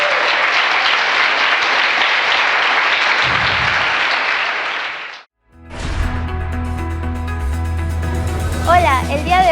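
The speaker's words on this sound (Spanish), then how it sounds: "Dale un aplauso al Señor" A church congregation bursts into loud, sustained applause for about five seconds during a worship service. The clapping stops abruptly, and music follows after a brief silence.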